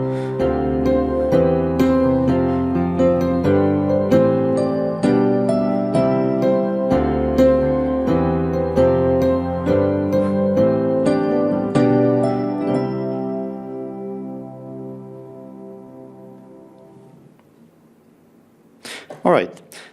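Solo piano plays a rising chord progression with reharmonized substitute chords and varied voicings, steady struck chords for about thirteen seconds before the final chord rings out and decays, followed by a brief sharp noise at the end.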